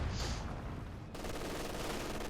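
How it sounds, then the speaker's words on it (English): Light machine gun fire rattles continuously in Company of Heroes 2, with a sustained burst crackling loudly through the full stretch, joined by a denser volley partway through, with no voices. "Now got Grenadiers left to defend themselves with the single light machine gun there"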